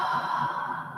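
A long, breathy exhalation made during qigong practice, a soft, steady, airy sigh heard close and alone.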